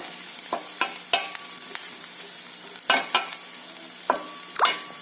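Onion is being sautéed with homemade red chilli powder in a pan, with a soft sizzle under sharp, irregular clinks and scrapes of a spoon stirring, close by and with no talk.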